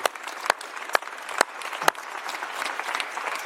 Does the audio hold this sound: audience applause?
yes